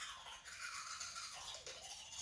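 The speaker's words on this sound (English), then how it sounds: "Do you make that noise when you brush your teeth?" Toothbrush scrubbing teeth in a steady, close, continuous bristly rasp lasting a couple of seconds, with no talking over it.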